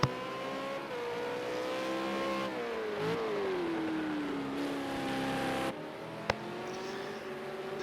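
V8 Supercars in a racing video game at Ruapuna Park, engine notes droning steadily with rising and falling pitch as the cars head out onto the track for qualifying, continuous without talk.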